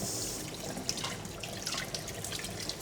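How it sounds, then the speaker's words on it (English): Cold water from a kitchen tap pours steadily over strained noodles in a colander, a close, continuous hissing splash with small spattering drips and no voices. "Just strain this and run it under the cold water tap."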